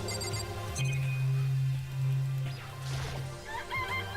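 Game chicken from Danganronpa: Trigger Happy Havoc clucking in short, loud, close calls, with a steady low hum and other game sounds in the background.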